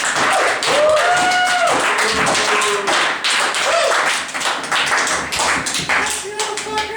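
An audience in a bar claps and whoops for the bartender during a live stage show. The applause is loud, close and continuous, with excited vocal shouts over the clapping.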